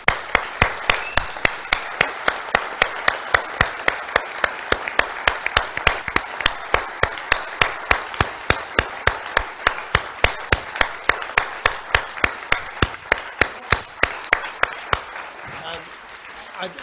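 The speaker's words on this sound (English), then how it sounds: "give all our panelists a big round of applause" Audience applause for panelists at a People's Vote campaign event, with sharp, evenly spaced claps standing out in a steady rhythm over a softer crowd bed, stopping near the end.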